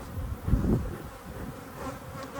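Scout bees fly in and out of a nearby hive, giving a steady low buzzing hum with one louder pass close by early on.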